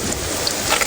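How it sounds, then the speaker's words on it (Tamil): Heavy rain pours over an outdoor fishing spot during a thunderstorm, a dense continuous hiss with low rumbling underneath, brief and without voices. "பார்த்தீங்கன்னா மழையிலேயே நனைஞ்சிட்ருக்கோம். இப்போ காற்றடிக்கி இடி அடிக்குதுங்க."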